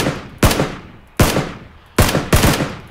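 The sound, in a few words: gunfire in a battle royale video game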